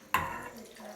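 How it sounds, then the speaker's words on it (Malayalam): A glass of water is poured into curd in a mixer jar, giving a short sudden splash and gurgle that fades over a second. "1 ഗ്ലാസ് വെള്ളം വെച്ച് കൊടുക്കാം."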